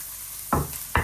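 Chopped onion with green chili, salt and turmeric sizzles in a hot pan under a steady hiss, with two sharp stirring scrapes standing out briefly.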